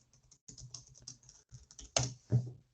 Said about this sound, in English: Let's type the same question.